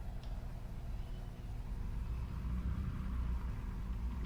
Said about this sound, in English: our airplanes taxi out and take off